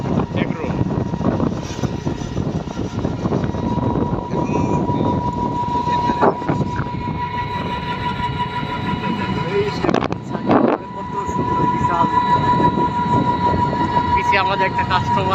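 Close, steady rumble and clatter from inside a moving train on the Rajshahi to Chapai route, with a persistent hum, occasional knocks and a brief dip, while passengers talk over it.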